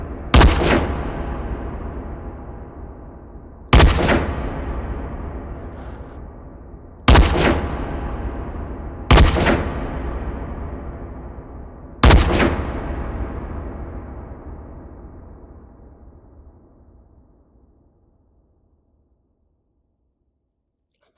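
Five loud, isolated sniper rifle shots on a shooting range in the VR game H3VR, each a sharp crack followed by a long decaying echo, spaced a few seconds apart.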